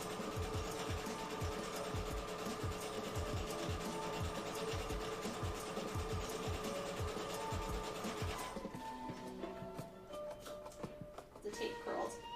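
A sewing machine stitches fabric alongside a strip of tape used as a guide while making a cosplay costume, a fast even mechanical rattle that runs for several seconds then stops, with talking over it.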